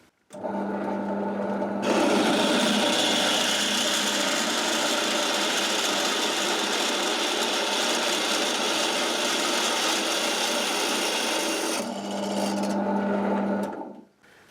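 A drill press with a sharp bit cuts into metal held in a newly mounted vice, a steady loud whirring grind running about ten seconds alone before spinning down.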